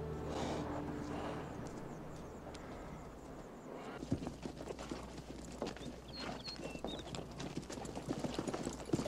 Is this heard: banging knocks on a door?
no